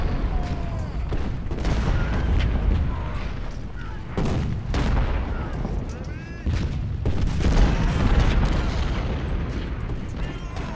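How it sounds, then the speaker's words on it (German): Cannon and rifle fire in the Ultimate General: Civil War strategy game, repeated booming reports and crackling volleys over a dense battle din, with someone talking through much of it. "Oh, da sind Kanonen."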